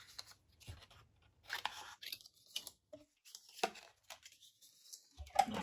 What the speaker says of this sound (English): So if I just cut this down